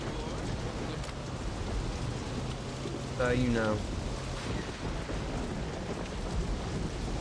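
Rain and thunder in the video game Saints Row: a steady, dense hiss of rainfall with a low rumbling bed throughout, and a brief voice speaking over it near the middle.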